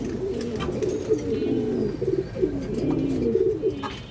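Many loft pigeons, including black racers and black Homas, keep up a continuous chorus of low, overlapping coos nearby, with occasional faint chirps above.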